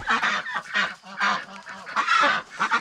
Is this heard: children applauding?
no